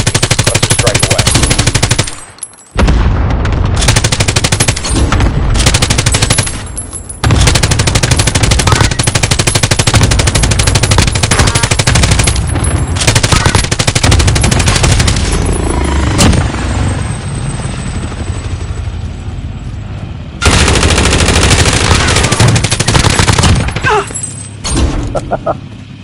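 Loud, sustained gunfire and explosions from a war video game fill the scene, with machine-gun bursts, helicopter-like rumble and heavy blasts running almost continuously, broken by a couple of brief quiet gaps.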